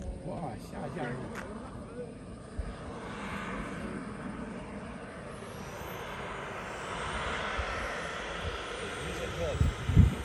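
A Mirage 2000 jet in desert camouflage lands, its engine roar a steady, moderately distant rumble that swells slightly toward the end, with voices chattering faintly underneath.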